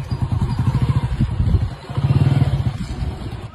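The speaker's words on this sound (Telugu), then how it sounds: "బండి స్టార్ట్ చేయి, క్లచ్ పట్టుకో, గేరే, యాక్సిలేటర్ ఇస్తూ స్లోగా క్లచ్ వదులు" A motorcycle engine running close by, thumping in a fast steady idle rhythm, briefly dipping before picking up again with a lively throttled beat.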